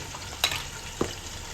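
Yogurt tipped onto garlic-ginger paste in a pan over a full-flame gas burner for yakhni pulao, giving a quiet, even frying hiss broken by two brief clicks of a spoon or utensil.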